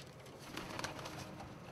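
South German Priest pigeons cooing softly, a few faint, low, throaty coos rising briefly over a quiet background in a short stretch.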